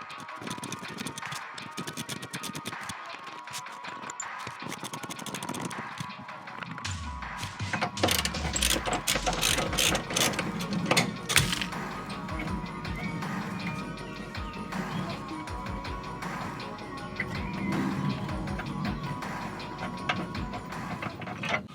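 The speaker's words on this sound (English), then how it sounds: "I've loosened all the bolts off, so let's take them out." Bolts being unscrewed and pulled from the subframe of a MINI raised on two lifts in a garage workshop, a busy run of metallic clicks, ratcheting and clinks that thickens after the first few seconds, fairly close with workshop background.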